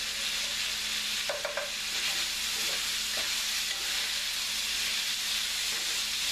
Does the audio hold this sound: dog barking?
no